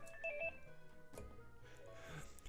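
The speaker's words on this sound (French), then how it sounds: "Excusez-moi, le téléphone sonne." A phone rings in Pokémon SoulSilver with a short burst of electronic beeping tones near the start, followed by quieter game sounds. Fairly faint, with no talking.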